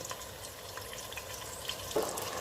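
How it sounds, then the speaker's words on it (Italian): Artichokes frying in olive oil in a pan, a soft steady sizzle and crackle with faint bubbling, close but gentle, one small clink near the end. "l'olio che comincia così a borbottare e a sfrigorare"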